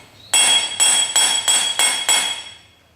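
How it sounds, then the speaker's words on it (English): A socket is hammered to drive a wheel bearing into a Honda XLR250R hub, giving five sharp, ringing metallic strikes at a steady rhythm, close and loud, with the last ring decaying into quiet. "You see, the socket just slides in. Now the sound changes. That means that the bearing is seated against the rim."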